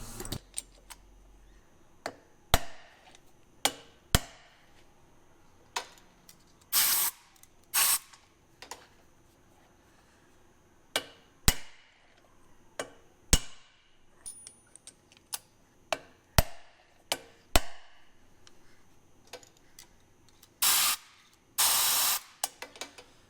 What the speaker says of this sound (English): now we're going to be driving in the new replacement seats